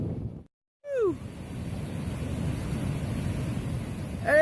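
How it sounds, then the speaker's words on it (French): A small mountain waterfall on a trekking trail in Peru's Cordillera Huayhuash gives a continuous, even rushing hiss after a short silent gap, with a couple of brief chirps on top. "Petite cascade."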